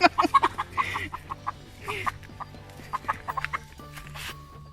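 Chickens cluck and squawk close by while being caught and put into a woven bamboo tray, in a burst of sharp, agitated calls followed by scattered clucks and rustling.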